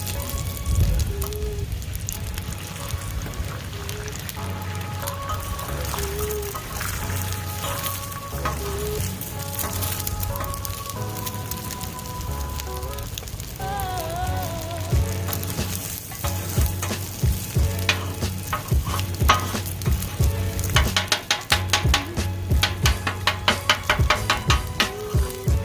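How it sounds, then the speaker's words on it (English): Eggs sizzle and crackle steadily in hot oil in a pan for chicken fried rice, a dense continuous frying hiss with bright pops and spits. Background music plays throughout, and the crackling grows sharper near the end. "Put a little oil down. And let's cook these eggs."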